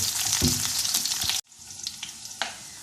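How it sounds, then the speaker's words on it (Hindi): Roughly chopped small onion hits hot oil with a loud, steady sizzle that cuts off abruptly. Softer frying crackles then follow, along with a few light clicks of stirring. "जब ये ऑयल गर्म हो गया है इसमें स्मॉल साइज़ एक अनियन जो है चॉप करके रफली काट के इस तरह डाल दिए। अब इसको हम ब्राउन करेंगे।"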